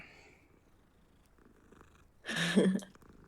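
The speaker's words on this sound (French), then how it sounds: "Et on l'entend même ronronner." A soft cat purr in a video game rumbles briefly and fairly close, rising after a quiet stretch, with faint background hum.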